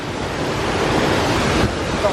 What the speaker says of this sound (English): We just come across another little bridge with an epic waterfall on it.